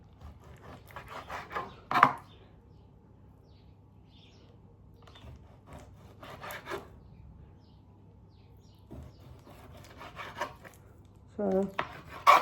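A knife slices raw chicken into thick strips for fajitas. Soft, sparse cutting and rubbing sounds come in a few short clusters against a quiet kitchen background.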